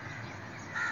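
A crow caws once, fairly faint, over a steady background hum, used as a sound effect at the start of a spoken story.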